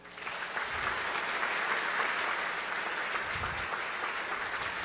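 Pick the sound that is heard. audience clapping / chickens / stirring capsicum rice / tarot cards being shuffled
audience clapping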